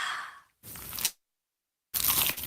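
Bites into a crunchy, cheesy pizza slice, close and alone: three separate loud crunching bursts, each about half a second long, with silent gaps between them.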